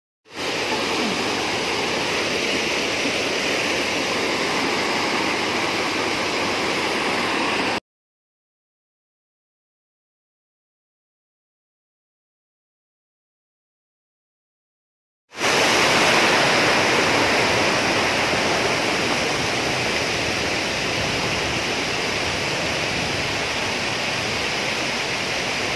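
A waterfall in Mindanao sends up a loud, steady roar of rushing water, broken by a silent gap of several seconds midway before the roar resumes.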